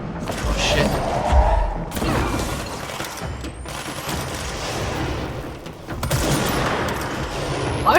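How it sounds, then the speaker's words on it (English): Loud bursts of gunfire in the video game Control with rattling, mechanical clatter, sustained and dense, with brief dips between volleys. "Your gunshots."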